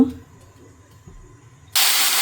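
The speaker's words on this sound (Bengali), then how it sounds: "তো কড়াইটা গরম হলে তেল দিয়ে নিব" Oil hitting a hot kadai (wok), bursting into a loud, sustained sizzling hiss near the end after a quiet stretch with faint low clatter.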